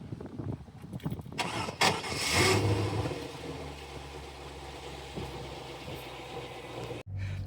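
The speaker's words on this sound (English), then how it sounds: "This is where you start the car." A Chevrolet Corvette with a manual gearbox starts up: a short burst of cranking catches into a revving engine that settles into a steady idle. The sound is fairly quiet and close, with faint voices nearby.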